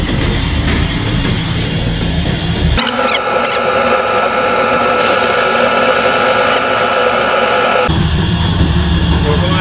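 A paint shaker machine mixing a bucket of paint gives a loud, steady mechanical rattling and whirring, with a harsher, squealing middle stretch as the shaking intensifies.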